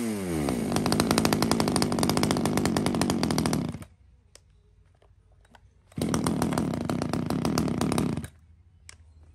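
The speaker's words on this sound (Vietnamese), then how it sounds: "con máy rẻ nhất trong lô máy ngày hôm nay là một con máy cưa Maruyama" A Maruyama 30cc chainsaw running close by in a shop, two loud sustained bursts of engine roar each dropping to a quiet idle, with no talking.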